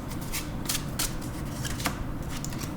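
Tarot cards being shuffled and drawn: several quick, soft papery slaps and riffles in irregular bursts over a faint background hiss, close and quiet.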